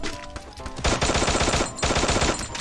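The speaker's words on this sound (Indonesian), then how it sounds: "oh lagi nembak ya bang" Gunfire in a shooter video game: loud, close bursts of rapid automatic fire, with a short stutter of shots followed by two longer sustained volleys separated by a brief pause.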